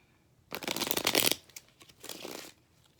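A deck of tarot cards is riffle-shuffled close up, two quick rattling bursts of flicking cards separated by a short pause, with a quiet room behind.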